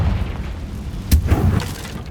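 A Confringo blasting spell explodes in the Hogwarts Legacy video game on PS5, a single deep boom partway through over a continuous low rumble of game ambience.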